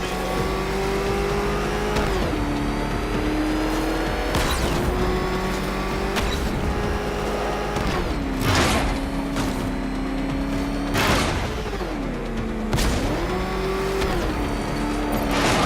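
Car engine in Batman: Arkham Knight revving loudly and continuously, pitch rising and dropping in repeated surges as gears shift, close and dominant throughout.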